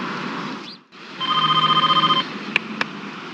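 Telephone ringing in a phone booth in the video game Driver, a burst of rapid electronic trills lasting about a second, after a brief hush and followed by two sharp clicks.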